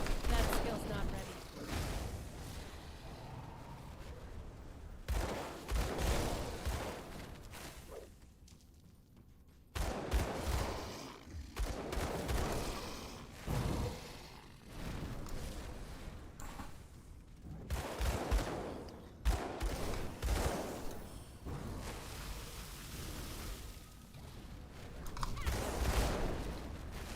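Skill explosions in the action RPG Grim Dawn go off as dense, repeated crackling blasts and bursts in rapid succession. They sound loud and close, and a voice talks over them at times.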